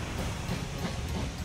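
A train in the video game Wobbly Life rumbles past with a steady low roar and faint rail clatter, constant in level and fairly close, with no voices.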